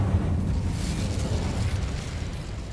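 Incendio fire spell cast in the Hogwarts Legacy video game, a sustained roaring, crackling burst of flame with dense noisy texture that stays loud and steady throughout.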